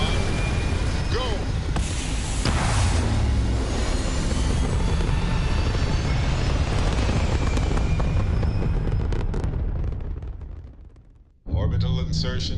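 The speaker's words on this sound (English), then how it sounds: "Ready for takeoff in 3, 2, 1, go!" A spaceship in the Starfield video game lifts off with a loud, sustained roaring engine rumble, broadband and steady for about ten seconds, then fades and cuts out before a brief burst of other game sound.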